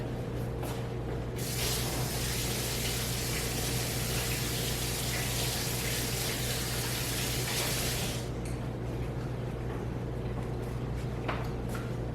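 Tap water running hard while hands are washed in a kitchen, a loud continuous hiss over a steady low hum, with the spray strongest in the middle stretch and no talking.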